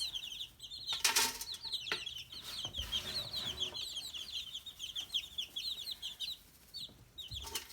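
Baby chicks about three weeks old peep constantly in a brooder, a dense chorus of high cheeping running throughout, with brief wing flaps and rustling of wood shavings near the mic.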